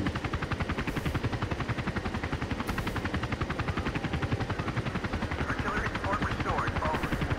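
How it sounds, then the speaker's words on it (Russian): In the video game Battlefield 2, a helicopter's rotor beats in a fast, steady rhythm throughout, with faint bursts of gunfire mixed in. "Ура, я на вертолете лечу, ура, я пилот."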